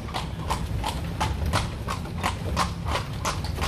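Hooves of a horse pulling a one-horse carriage clip-clop through the streets of Granada, Nicaragua, in a steady, even rhythm of close, crisp strikes over a low road rumble.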